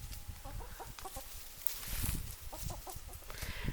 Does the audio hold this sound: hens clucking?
yes